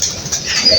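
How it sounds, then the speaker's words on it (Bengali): Pigeons flapping their wings as they fly down to feed on rice, a brief, close flutter of wingbeats lasting under a second. "কবুতরগুলো এখন নেমে আসবে"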